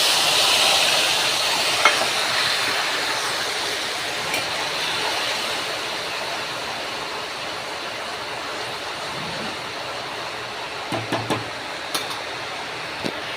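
A spice paste of ginger, garlic, chilli and tomato hits hot oil in a pan, giving a steady, loud broadband sizzle that holds for the whole stretch, with a few faint clinks near the end.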